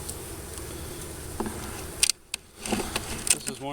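Honey bees from an aggressive hive buzz close by during a mid-winter hive inspection, with faint scattered buzzing passes and a few sharp handling knocks, no talking.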